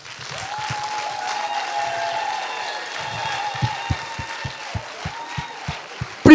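Steady applause from an audience runs under music with sustained tones, then grows into sharper, distinct claps near the end.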